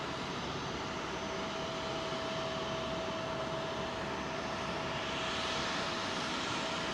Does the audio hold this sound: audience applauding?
no